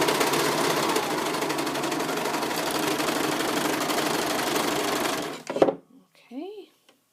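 A serger runs steadily along a wool sweater seam, a close, loud, rapid mechanical whirring for about five seconds, then it stops and a voice speaks briefly.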